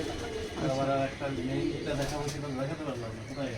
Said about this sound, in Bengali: প্রচুর কবুতর বন্ধুরা